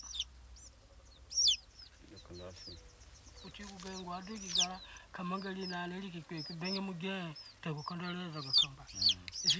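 A chicken clucks and squawks during an Azande poison oracle ritual in Africa: a few sharp high cries stand out over long stretches of someone speaking nearby.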